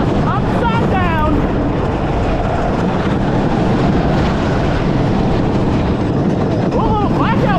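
A roller coaster train at Fun Spot America in Kissimmee roars along its track with a loud, constant rumble and rattle, riders' voices and shrieks rising over it at the start and end.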